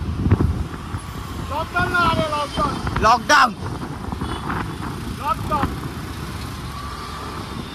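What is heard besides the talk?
road traffic noise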